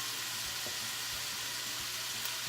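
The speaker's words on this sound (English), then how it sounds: "So we'll stir this up and get it all fried nice and brown and the vegetables tender." Vegetables and a large jalapeno fry in a pan for Spanish rice, giving a soft, even sizzling hiss that stays constant and faint throughout, with no talking.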